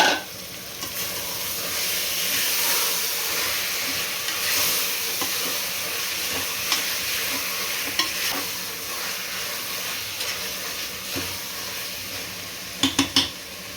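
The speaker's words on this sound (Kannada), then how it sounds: "ಇವಾಗ ನಾನು ಹಸಿಮೆಣಸಿನ್ಕಾಯಿನ ಹಾಕ್ಕೊತೀನಿ. ಆಮೇಲೆ ಇದ್ರ ಜೊತೆ ಟೊಮ್ಯಾಟೊನು ಕಟ್ ಮಾಡಿರೋದನ್ನು ಸೇರಿಸ್ಕೊತಾ ಇದ್ದೀನಿ." Green chillies and chopped tomatoes frying for mutton dum biryani, a steady sizzle with repeated scraping and stirring against the pan, a few metallic clinks and knocks toward the end, no speech.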